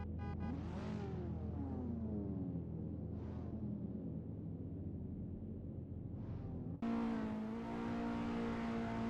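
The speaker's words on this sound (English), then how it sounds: "Just hear the rumble of the engines in the Skip Barber cars as we get ready to go racing" Skip Barber race cars idling and revving on the grid at the Red Bull Ring in the Assetto Corsa racing game, a steady engine drone with rising and falling revs and a louder surge near the end.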